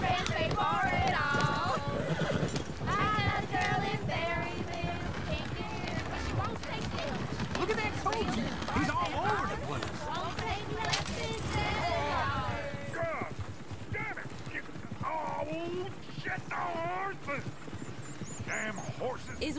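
Steady clip-clop of several horses' hooves running in the video game Red Dead Redemption 2, with a whinny and game music and voices talking over the busy, continuous scene.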